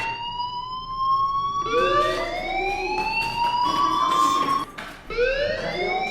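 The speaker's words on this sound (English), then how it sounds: "do you hear that fire alarm? That means you should be outside." Fire alarm in the video game Life is Strange, a loud continuous electronic wail with repeating rising sweeps that cycle over several seconds, heard alone without speech.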